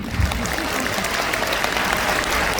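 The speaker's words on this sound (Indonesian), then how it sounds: "tepuk tangan untuk CFM Kediri ini" An audience at a seminar-style gathering claps steadily in a dense, continuous wash of applause, loud and close throughout.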